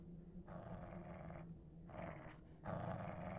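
A dog growls in a horror video game, three low rumbling bursts of about a second each with brief pauses between, fairly close, the last one a little louder.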